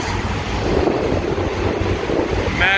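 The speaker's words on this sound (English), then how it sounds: "I can show you these jet drives" A jet boat's powerful jet drives churn the water at the stern during sea trials, throwing up heavy wash in a steady, loud, broadband rush mixed with wind buffeting the microphone.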